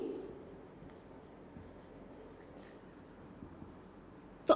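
Writing on a classroom board during a 9th-grade physics lecture on vernier scale readings: faint, continuous scratchy strokes at low level with no talk, ending in a short sharp tap.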